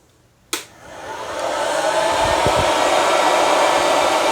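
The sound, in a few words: home coffee bean roaster running, loud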